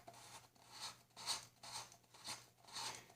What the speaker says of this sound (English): Hold the can against that hook blade and rotate it to score a line around the base of the can